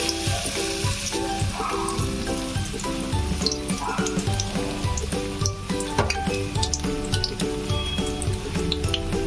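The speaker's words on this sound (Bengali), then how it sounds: "এপিট ওপিট করে ভালো করে চুবিয়ে নিয়ে আমি তেলের মধ্যে ছেড়ে দেবো একটা একটা করে" Bread pakoras coated in batter frying in hot oil, a loud continuous bubbling sizzle with crackling pops and a faint background tone, no talking.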